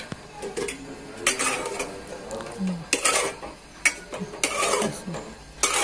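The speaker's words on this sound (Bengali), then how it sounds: "তো এই যে এখন একটু চুলার উপর দিব" A cooking pot with greens and red lentils is set down on a stovetop, giving several clattering metal knocks and scrapes of cookware at close range, with no talking.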